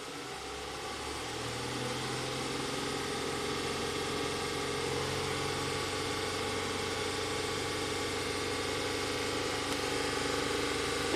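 Honda Accord engine with a VCM misfire problem turning over and settling into a steady idle, a close, continuous low hum with a faint vibrating drone and no talking.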